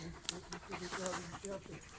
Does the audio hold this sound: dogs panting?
yes